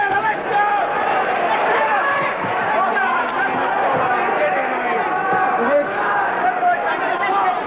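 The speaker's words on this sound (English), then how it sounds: "Well, the crowd liked it." Boxing match crowd at the Jamie Wallace vs Adrian Bellin fight roars and chatters continuously, a dense, loud wash of voices and cheering with no pauses over nearly eight seconds.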